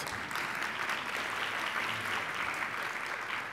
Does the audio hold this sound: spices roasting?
no